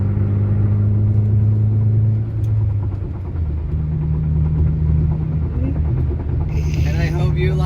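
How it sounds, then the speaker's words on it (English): A car fitted with D2 Racing lowering springs drives along with a steady low engine drone and road rumble, the pitch shifting as it changes speed, loud and close from inside the cabin. "I'm going to end the video out with a little bit of driving"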